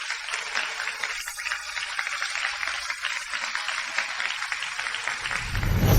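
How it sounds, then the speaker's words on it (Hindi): An audience applauds a pair of wedding couples at a ceremony, steady broad clapping that holds evenly for several seconds before a low rumble swells at the end. "एक बड़ी तालियां दें आज शादी करने वाले हमारे दो जोड़ों के लिए"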